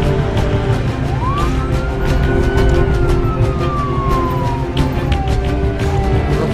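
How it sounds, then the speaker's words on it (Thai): A wailing ambulance siren rises and slowly falls in pitch over steady traffic rumble, loud and continuous throughout, arriving at a prison in a Thai-dubbed action film. "รถพยาบาลมาถึงแล้ว"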